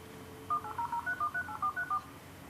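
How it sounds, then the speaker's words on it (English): A dial-up internet dialer sends a quick run of about ten clipped telephone touch-tones in a steady rhythm, clear over a faint hiss, after a short stretch of quieter line noise. "It's dialing up all on its own."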